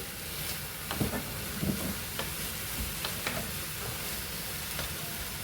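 A spoon scrapes and stirs through a pan of Anapakaya Pallu curry with a little chili powder, under a soft continuous sizzle, with scattered clicks and light knocks against the pan.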